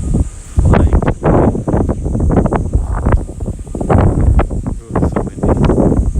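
Wind blows across a small balcony garden, buffeting the microphone with loud, continuous gusty rumble and rustling that rises and falls throughout.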